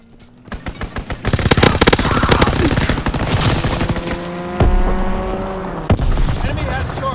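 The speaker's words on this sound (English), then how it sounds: "Strafing run inbound." Call of Duty strafing run: rapid machine-gun fire rattles in dense, loud bursts, then an aircraft engine roars and drones overhead, with a sharp impact partway through, all over continuous battlefield noise.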